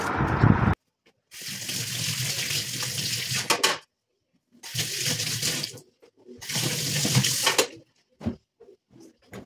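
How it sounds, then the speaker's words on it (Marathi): Tap water gushes into a clay water pot in three separate bursts of steady, close splashing, each a few seconds long, with short pauses and faint clatter between them. "आणि माठात पाणी भरून घेते."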